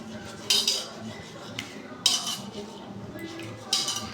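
A spoon tips chia seeds into a bowl with three distinct metallic clinks and scrapes spaced about a second and a half apart, close and fairly quiet.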